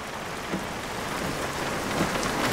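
Rain falls steadily with a broad, close hiss, and faint low rumbles of thunder roll beneath it, with no voices.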